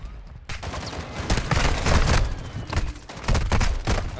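An enemy team opens fire in the video game DMZ. Dense, rapid bursts of automatic gunfire start abruptly and continue loudly and almost without pause, with short gaps between volleys.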